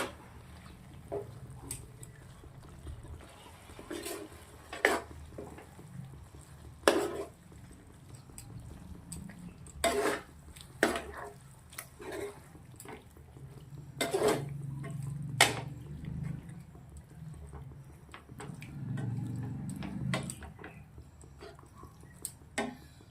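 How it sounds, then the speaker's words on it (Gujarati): A spoon or spatula knocks and scrapes against a pan while palak paneer with coriander is stirred, giving intermittent clinks and taps spread over the clip with a low background hum and no talking. "મસ્ત મિક્સ કરી દેવાનું છે"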